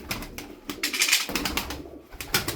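Close, soft cooing from a domestic game pigeon in a small breeder's flock, a few low throaty pulses repeating in uneven rhythm.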